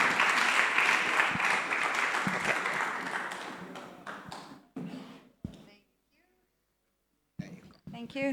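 A community dialogue audience claps for a professor about to speak. The applause is dense and fairly loud for about four seconds, then thins to scattered claps and silence, followed by talk and a few final claps.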